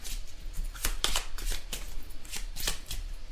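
Tarot cards shuffled by hand at close range, a run of crisp riffling bursts and soft slides repeating in an uneven rhythm, with no talking.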